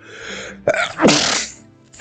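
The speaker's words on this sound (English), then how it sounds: "oh, I gotta sneeze." A single loud, wet sneeze close to the microphone, with a sharp inhaled buildup followed by the explosive burst that trails off.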